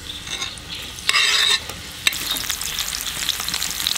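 Onion and pepper fry in hot oil with a loud, close sizzle that flares sharply at the start and then settles into a steady crackling hiss as the pieces are stirred.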